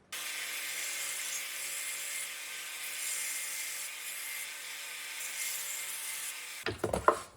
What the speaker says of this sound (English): I'm going to clean it up on a belt sander.